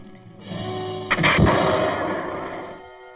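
A single loud rifle shot cracks close by, its blast rolling out into a long echoing decay over about two seconds before fading.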